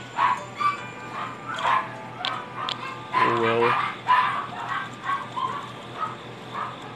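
Dogs bark and yip in short, repeated bursts at moderate distance, with one longer whining bark in the middle, while a person talks briefly.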